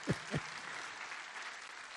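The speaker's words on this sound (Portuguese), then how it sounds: "Uma salva de palmas para ele." Audience applause at a summer course gathering: two short low thumps, then a faint, distant, steady wash of clapping from the crowd.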